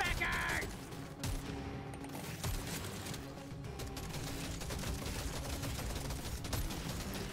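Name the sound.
gunfire in video game Deep Rock Galactic Survivor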